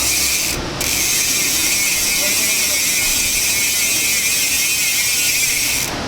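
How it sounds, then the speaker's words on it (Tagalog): A rear freewheel hub on a trail/enduro project mountain bike ticks in a fast, steady run of close-up clicks lasting several seconds. "Ito yung tunog ng kanyang hub."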